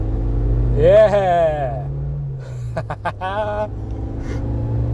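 A Suzuki Jimny engine pushed at full throttle, a steady low drone that runs beneath an excited shouting voice.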